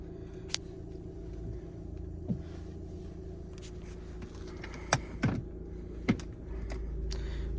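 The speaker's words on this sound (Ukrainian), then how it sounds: "Заводиться автомобіль з півоберту." A Volkswagen Passat B7 2.0 TDI diesel with automatic gearbox idling, a steady low rumble close by, broken by a few sharp clicks and knocks near the middle of the clip.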